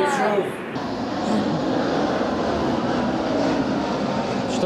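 A small airplane flies overhead outdoors, its engine a steady, loud, broad drone that fills the whole stretch, with a voice briefly heard.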